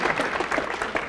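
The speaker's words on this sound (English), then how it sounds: "So give Richard Clark a round of applause" Keynote audience at a hypnosis conference clapping for a named guest, a dense, loud burst of many hands at close range, brief and continuous.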